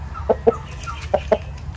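A rooster of a native Filipino chicken breed clucks in two short paired bursts, low and close, over a steady low rumble of background noise.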